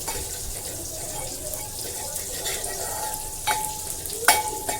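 Garlic fries in oil in a cooking pot for a spicy fish dish, giving a steady, close hiss of sizzling with a few small clinks and scrapes near the end and no talking.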